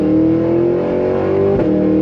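A 6.2-liter supercharged V8 in a 2023 Cadillac Escalade-V accelerates hard under manual paddle shifting, a loud, steady engine roar rising in pitch before a sharp upshift near the end, with no talking.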